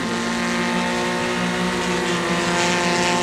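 Formula Continental race cars heading into the final corner of a road course make a loud, steady engine roar that fills the whole stretch, with no pause and no voices.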